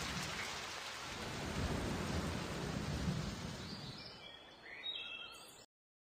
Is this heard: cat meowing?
no